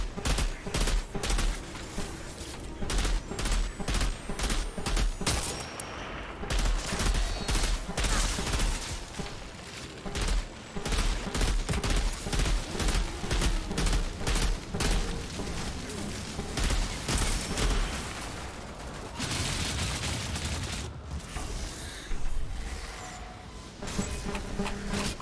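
Sustained bursts of gunfire from enemies firing at the player in the video game Outriders, dense rapid volleys running almost continuously over a background game soundtrack.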